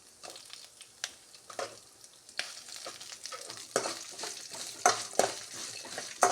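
Chopped green chili and garlic frying in a pan for a vegetable green masala, a steady soft sizzle broken by repeated scraping stirs of a spoon, close and fairly quiet, with no talking.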